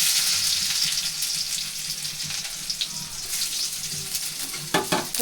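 Garlic and onion fry in a pan on a home stove while manufacturing Manchurian, giving a steady broadband sizzle with a few clinks and scrapes near the end.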